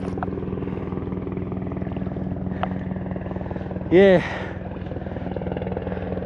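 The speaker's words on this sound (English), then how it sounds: "these helicopters fly low around here" Low-flying helicopters pass overhead near the Potomac River, a loud, steady throbbing rotor drone that runs throughout, with one brief voice cutting in partway through.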